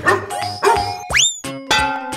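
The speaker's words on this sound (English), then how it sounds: "Dog." A cartoon dog barks in an animated animal-transformation scene, giving several short, loud, clear yelps in a quick series with brief gaps between them.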